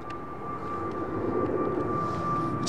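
A jet airliner departs runway 09R at London Heathrow, its engine roar a steady, fairly distant rumble with a high whining tone held throughout and no talk over it.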